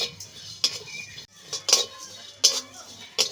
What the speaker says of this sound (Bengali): একটু আস্তে আস্তে নেড়ে নেড়ে ভালো করে ভাজতে হবে